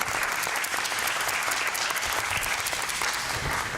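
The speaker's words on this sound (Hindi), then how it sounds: "तालियों से इनका स्वागत किया जाए" Audience applause at a Hindi poetry gathering (kavi sammelan) in Houston, welcoming a poet to the stage: steady, even clapping from a seated crowd, moderately loud and unbroken, with no talking over it.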